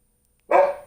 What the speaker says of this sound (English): I really do apologize about my dog barking.